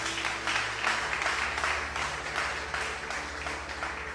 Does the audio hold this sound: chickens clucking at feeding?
no